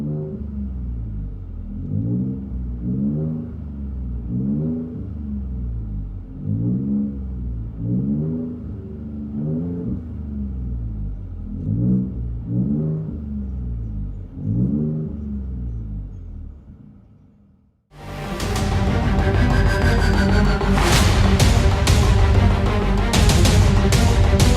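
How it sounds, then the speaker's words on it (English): A 2019 Ford Raptor fitted with a Race Demon cat-back true dual exhaust with X-pipe: deep pulsing revs rise and fall in a steady rhythm, then cut to a loud, rough, broadband drive-by roar. "heavy interior tone level with this Race Demon Catback True Dual Exhaust"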